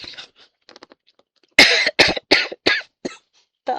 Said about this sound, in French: Mais je tousse quand même encore un peu.